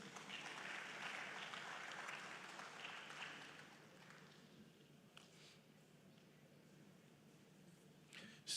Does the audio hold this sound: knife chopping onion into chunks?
no